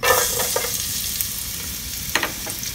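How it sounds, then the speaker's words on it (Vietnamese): Garlic sizzles steadily in hot oil in a pot, a continuous crackling fry with a few louder stirring scrapes near the start and end. "Rồi dầu nóng mình cho tỏi vô đây luôn."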